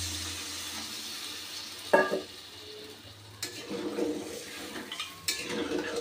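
Water goes into a pan of katla fish head curry, with soft stirring, a brief clatter of a utensil against the pot and a gentle sizzle settling into a quiet simmer.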